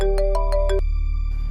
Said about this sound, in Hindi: उस बच्चे के फ़ोन पे किसकी कॉल आ रही है?